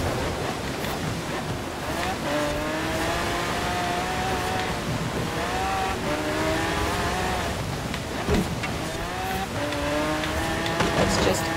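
A supercar's engine revs and shifts through gears during a race in Forza Horizon 4, a continuous whining drone rising and falling over a wash of wind-like road noise.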